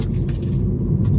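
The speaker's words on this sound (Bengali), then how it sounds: "সরি আমার চাবি শব্দ করতেছে" A short burst of car keys jingling close by inside a moving Toyota Corolla, metallic clinks over a low engine-like rumble.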